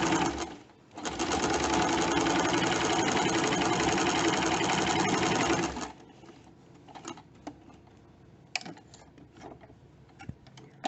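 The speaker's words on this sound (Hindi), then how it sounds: "शर्ट की तरफ जो हिस्सा है उस हिस्से को हम स्टिच कर देंगे" A home sewing machine stitches along a shirt placket with a loud, steady motor whir for about five seconds, then stops, leaving quiet handling clicks and fabric rustles.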